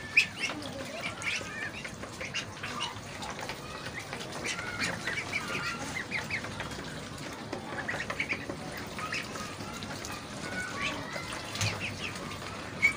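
Domestic ducks and geese in a home poultry-raising setting, giving scattered quacks and honks with bird chirps throughout, moderately close and steady over a busy flock background.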